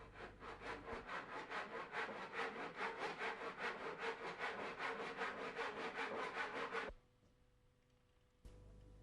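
Handsaw cutting a miter in a wooden dado piece, steady rhythmic back-and-forth strokes up close for several seconds, then stopping abruptly, with a brief knock near the end.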